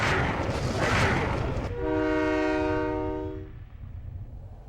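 A train horn in the video game Silent Hill 3 sounds one long, loud, steady blast over rumbling rail noise, then fades away, with no talking.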